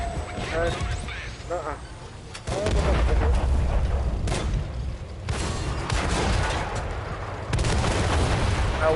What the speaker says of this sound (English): I was in range of artillery.